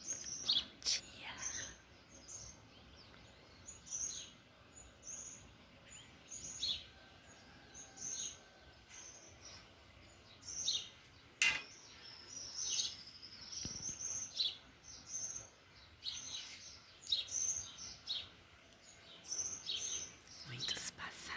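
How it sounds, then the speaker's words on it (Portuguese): Many birds singing at dawn in a backyard, with high chirps and twittering calls repeating in clusters throughout at a moderate distance over a quiet background, and faint low noises now and then. "O som do amanhecer no meu quintal"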